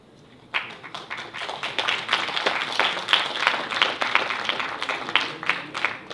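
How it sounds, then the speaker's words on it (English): Audience at a university finalist pitching competition breaking into applause for a student team after a brief quiet moment, dense, lively clapping from many hands that holds steady and fairly loud throughout. "Let's give them another round of applause, ladies and gentlemen."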